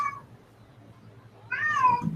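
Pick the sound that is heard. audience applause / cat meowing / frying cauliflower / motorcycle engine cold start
cat meowing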